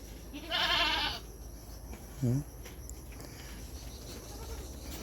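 A goat giving birth gives one short, loud bleat near the mic, with a brief burst of higher noise just before it and quiet outdoor ambience around it.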